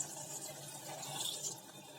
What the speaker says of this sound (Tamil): 1 டம்ளர் தண்ணி தான் எடுத்திருக்கேன்.